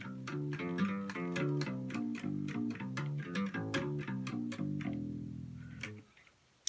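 A Hofner Contemporary violin bass set to the rhythm position, with the bass switch on and treble off, plays a quick run of plucked notes with a warm, rounded, muted tone. A final held note fades out near the end.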